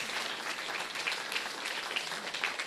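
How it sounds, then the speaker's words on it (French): A room of attendees at a public meeting about the Metro B line applauds, a steady, even wash of many clapping hands heard at moderate distance, with no talking over it. "applaudissements s'il vous plaît."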